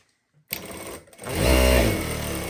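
A Jack A5E computerized industrial sewing machine starts up after a short pause and runs with an automatic bar tack, giving a loud, close, steady mechanical whir that builds and keeps going.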